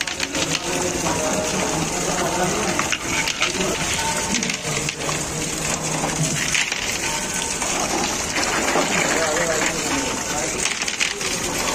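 Crystal chandelier pieces being washed by hand under running water at a gurdwara, a steady splashing rush of water with light clinks and taps of glass throughout, loud and close, with voices talking over it.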